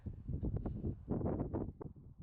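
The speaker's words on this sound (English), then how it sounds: "So windy." Gusty wind blowing outdoors on a cold day, buffeting close to the microphone in loud, uneven rumbling bursts for a couple of seconds, with no talk over it.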